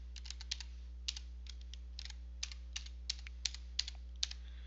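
Quick bursts of keystrokes on a computer keyboard while a table format name is entered in LibreOffice Writer, a close, steady patter of clicks with short pauses, over a low constant hum and no talking.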